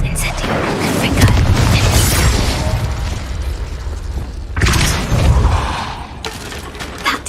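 Fiery spell explosions in the video game Hogwarts Legacy, with heavy booming blasts and crackling bursts over rumbling game action, a fresh burst near the end.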